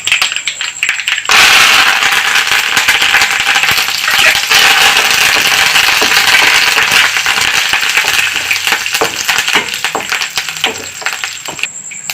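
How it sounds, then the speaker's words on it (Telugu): Dry red chillies and curry leaves hit hot oil as tempering for a veldt grape stem chutney. A sudden burst of dense, loud crackling and sputtering begins, then continues steadily and slowly tapers off. "ఎండుమిర్చి కరివేపాకు వేస్తున్నాను"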